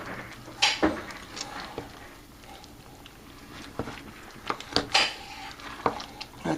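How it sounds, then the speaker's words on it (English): Pecans stirred into cranberry sauce in a pot, a spoon scraping and knocking against the metal sides in scattered close clinks and taps over a soft background, no voices. "I'm going to add the pecans, and I'm going to stir that around."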